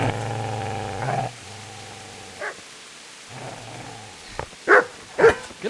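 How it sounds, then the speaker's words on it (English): A dog barks and growls at the player in the medieval role-playing game Kingdom Come: Deliverance, with a low snarl, then a few sharp barks spaced apart and two louder ones near the end. "Get away, you mutt!"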